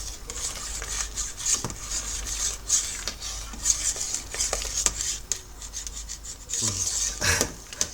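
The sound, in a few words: stirring chocolate and vanilla stout brew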